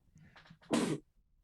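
A single quiet sneeze during a podcast conversation: a short intake of breath, then a sharp, breathy burst lasting about a quarter second, alone and close.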